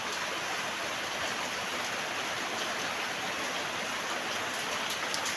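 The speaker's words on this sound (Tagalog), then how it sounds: "Lakas ng ulan." Heavy rain pours steadily in a dense, even roar of hiss and patter, with no pauses.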